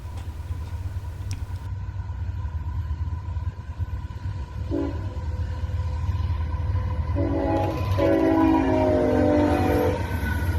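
I-007, a freight train with two UP locomotives, rumbles past nearby at a steady roar, with short horn blasts in the second half growing louder as it approaches.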